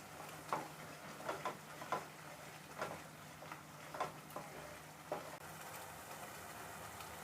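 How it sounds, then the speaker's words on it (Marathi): Chole masala with red chilli powder and salt roasting in oil over a low flame, giving a faint, quiet crackle with soft intermittent ticks and clicks of stirring spread across the stretch, no talk. "हा मसाला बारीक गॅसवर तेल सुटेपर्यंत आपण थोडा भाजून घ्यायचा आहे."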